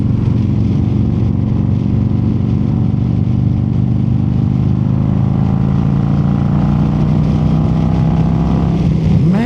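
A cammed and tuned 2025 Harley-Davidson Road Glide is ridden in fourth gear. Its loud, close engine drones steadily with a deep rumble, and the pitch rises slightly as it pulls, alongside a steady rush of wind.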